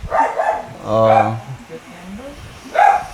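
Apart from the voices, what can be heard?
dog barking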